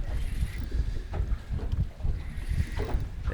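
Wind gusting across a sheltered bay, buffeting the microphone aboard a small boat called the Osprey near a mussel farm, a steady low rumble with rising and falling gusts.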